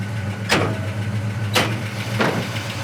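A 1969 Chevelle SS with a big block 396 V8 and 4-speed idles steadily with a low, loping rumble, the exhaust note constant and close, while three brief whooshing sounds sweep past over it.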